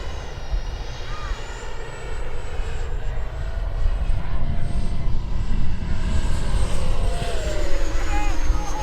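An FMS Futura 64mm RC model jet roars loudly on its takeoff run in a sunset flight, a steady high-pitched ducted-fan whine over heavy rumble and wind, growing slightly louder as it climbs away.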